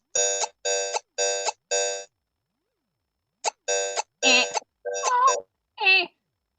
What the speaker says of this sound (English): Is that a pocket operator?